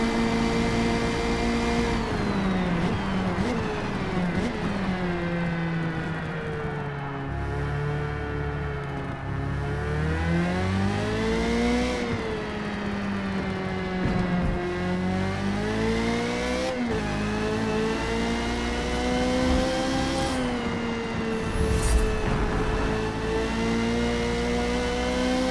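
A Formula Mazda race car engine in the racing game Forza Motorsport on the Catalunya National Circuit, revving high and steady with rising and falling pitch through gear changes and throttle lifts, loud and continuous with no talk.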